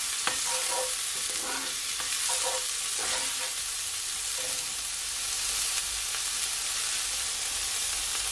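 Fried rice stirred in a hot pan, a constant bright sizzle broken by scraping and tapping strokes of a spoon, close and without talk.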